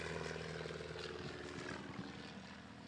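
Light propeller aircraft engine drones steadily during a landing or takeoff run at a land-and-takeoff competition, a continuous buzzing hum heard from a moderate distance with a gradual slight fade.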